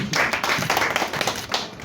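Audience applause at a Kenyan awards unveiling event, a dense burst of many hands clapping steadily throughout, loud and close, with a faint voice mixed in.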